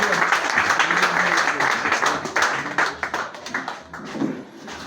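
A church congregation applauds during a worship service, a dense, steady wash of clapping that carries throughout, with scattered sharper claps standing out and voices mixed into the crowd.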